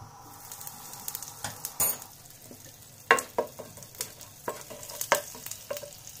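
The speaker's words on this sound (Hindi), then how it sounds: "तेल गरम हो जाने के बाद हम यहाँ पे डालेंगे थोड़ा सा हिंग" A pinch of asafoetida (hing) hits hot oil in a pan while making matar kachori filling, giving a steady close sizzle with repeated scraping stir strokes and utensil clicks throughout.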